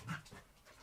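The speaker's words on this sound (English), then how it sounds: "sorry, my dogs are in the background." Dogs panting in the background of a home during a space news livestream, a faint, quick, breathy rhythm heard briefly and quietly at a distance.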